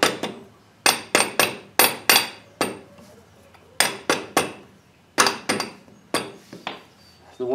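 Hammer tapping a bearing into a New Holland TC33D tractor's front axle, a series of sharp metallic knocks in small clusters of two to three, close and loud with short ringing decays between groups.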